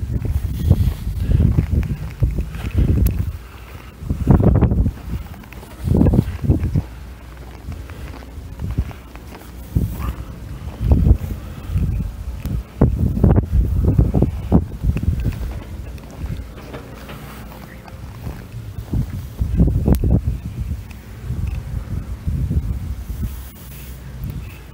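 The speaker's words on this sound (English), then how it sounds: "it's still pretty breezy out here" Strong gusty wind buffets the microphone outdoors at an airfield, rising and falling in heavy rumbling bursts for the whole stretch, with occasional footsteps underneath and no talking.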